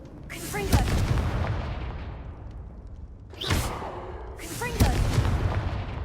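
In the Hogwarts Legacy video game, three heavy Confringo blasting curse explosions boom one after another, each with a sharp whooshing onset and a long rumbling decay, loud and close.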